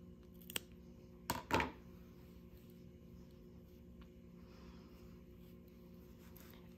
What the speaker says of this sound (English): And then you're gonna snip those.